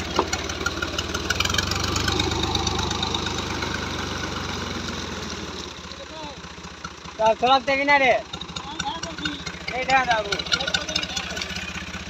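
A tractor engine rumbles steadily at close range while the tractor is stuck in mud, a low continuous drone that eases slightly partway through, with people talking loudly over it.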